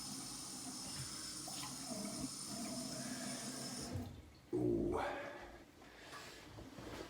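Cold water runs from a tap into a sink during a shave, a steady close rush that cuts off partway through, followed by a splash and softer trickling and dripping.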